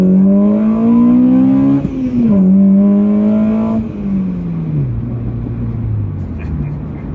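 An Acura RSX Type-S with an HKS exhaust pulls hard, its engine note climbing, dropping at a shift, then rising again before easing off. Loud and close inside the car, with someone talking over it.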